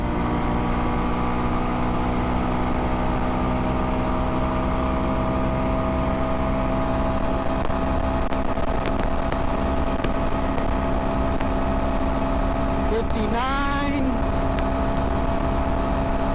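Kawasaki KLX230S ABS motorcycle engine holding a steady drone in 5th gear during a top speed run, with continuous wind roar and a brief rising whine near the end.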